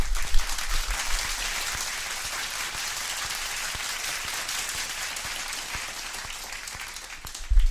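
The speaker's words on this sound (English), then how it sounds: "A round of applause to the people that subscribe to the greatest MMA channel in the" A steady, dense round of applause from many hands claps on without a break, holding an even level and fading slightly toward the end.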